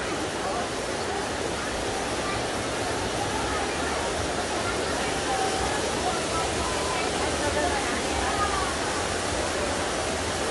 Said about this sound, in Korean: 여기 인공 폭포가 있네요.